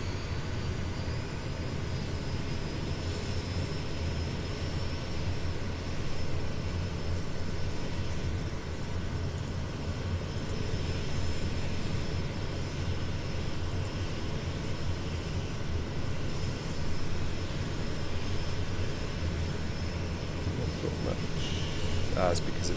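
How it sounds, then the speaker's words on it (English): A Kodiak 100 turboprop in Microsoft Flight Simulator spinning up on engine start with the propeller still feathered, producing a steady, broad rumbling whine that holds fairly constant and loud throughout, with a thin high tone running above it. "fuel is now going in and the plane is spinning up"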